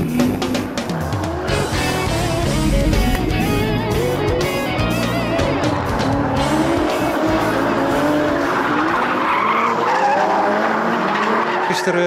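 A drift car slides around a seaside track during a 2014 drift challenge event, tires squealing and skidding loudly under a roaring engine for a long, continuous stretch, with faint voices in the background.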